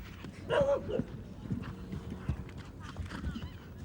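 A horse on the cross-country course at the Badminton Horse Trials gallops with clear hoofbeats and a brief whinny near the start. A commentator talks over the sound throughout.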